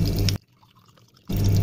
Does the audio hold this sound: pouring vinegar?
yes